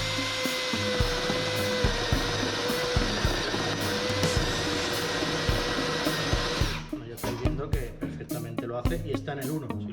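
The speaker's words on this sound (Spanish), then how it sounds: "vamos a modo taladro al 1 para no vaya muy rápido, lo hacemos controlado" A cordless drill on its lowest speed setting drives a 30 mm hole saw into steel, a steady high whine with grinding that breaks into choppy, uneven bursts in the final seconds.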